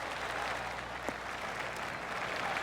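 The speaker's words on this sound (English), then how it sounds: "I can hear the golf claps around the course" Golf claps from the gallery around the course at Quail Hollow Club in the PGA Tour 2K25 video game during the PGA Championship, a soft continuous patter of scattered applause, fairly distant and even throughout.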